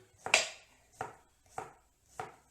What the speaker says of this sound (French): On coupe la petite courgette, tranquille